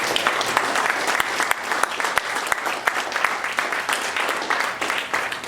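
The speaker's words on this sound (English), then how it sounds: "can we just get a round of applause for Jared and Gary?" An audience gives a round of applause for two cooks, Jared and Gary, at a food event, a full, steady rush of many hands clapping with a few louder claps standing out.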